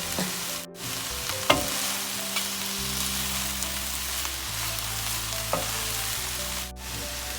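Cooked rice stir-fried in a hot pan for restaurant-style mixed fried rice makes a steady, dense sizzle with occasional scraping and tossing clatter, close and continuous with no talking.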